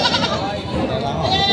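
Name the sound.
goat bleating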